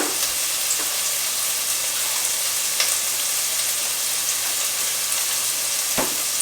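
Turkey casserole ingredients cooking down in a pot, a steady soft sizzle and bubbling hiss with an occasional faint clink, going on evenly throughout.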